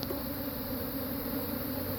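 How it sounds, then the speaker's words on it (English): Honey bees being shaken off hive frames into a box make a dense, continuous buzzing hum that stays loud and close throughout. "there's a bunch of bees on here"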